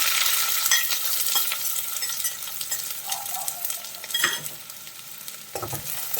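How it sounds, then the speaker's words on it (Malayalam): Three chopped onions sauté in a hot pan for rajma curry, a steady close sizzle and crackle with occasional scrapes of stirring, with no voices. "ഇനി നമുക്കിതൊന്ന് വഴറ്റിയെടുക്കാം."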